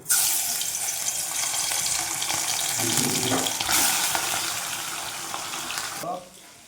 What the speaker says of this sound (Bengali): ভাই দেখুন, তেল হয়ে গেছে, তেলে মাছ দিলাম।